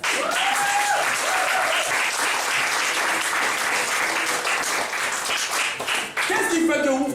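A church congregation applauds and cheers loudly for Jesus, sustained dense clapping with voices mixed in throughout, near and full.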